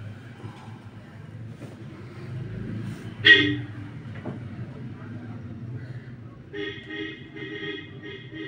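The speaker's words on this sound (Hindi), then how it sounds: "steam engine" A steam engine train rumbles low and steady, then gives a sharp short horn blast, followed later by a longer, sustained toot over the rolling rail noise.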